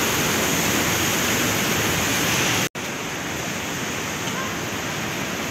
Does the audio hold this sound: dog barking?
no